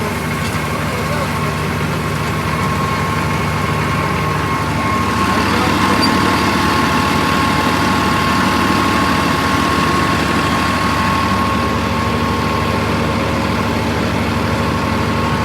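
Swaraj 969 CRDi tractor diesel engine idling with a steady, heavy low rumble, close and loud, unbroken throughout.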